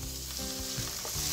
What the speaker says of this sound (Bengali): এখন এখানে আমি দিয়ে দিচ্ছি আদা রসুনের পেস্ট।